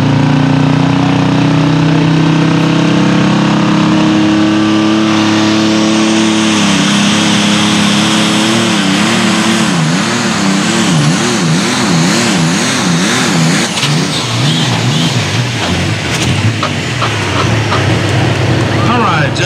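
Light limited super stock pulling tractor engine revving hard during a tractor pull in Cloverdale, Alabama, loud sustained roar with rising and wavering pitch and turbo whine, an announcer talking over it.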